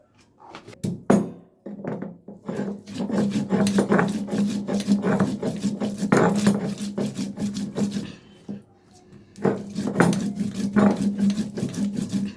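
Green chillies, ginger and whole cumin are ground on a stone slab, a close rough rasping and rubbing that runs in long strokes, pausing briefly twice between bouts, with no talk.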